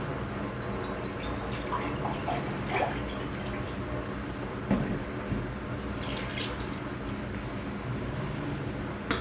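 Soy milk pours into cake batter in a home kitchen, a soft continuous liquid splashing and trickling for several seconds, close and moderately loud with faint background noise.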